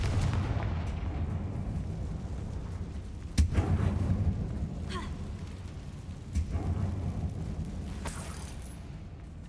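A Confringo fire spell blasts in Hogwarts Legacy, with two sharp booming impacts over a steady rumbling game backdrop, followed by lighter pops near the end.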